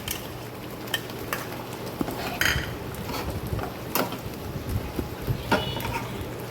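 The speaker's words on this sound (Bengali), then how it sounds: "সবজিগুলোর সাথে একটু নেড়ে চেড়ে নিচ্ছি" Chilli chicken with vegetables, tomato sauce, chilli sauce and soy sauce stirred in a pan, with intermittent scraping and clinking of a utensil over a steady low sizzle, moderately close.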